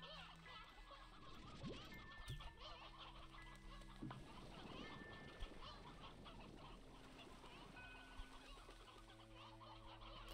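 Chickens cluck in a video game, an elder hen and an elder rooster among them, with a steady run of clucks and calls over a busy game soundscape full of tones and effects.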